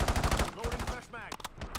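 Rapid gunfire in a tactical shooter video game, a burst of sharp close shots followed by a few separate loud cracks, with game voice callouts and effects around it.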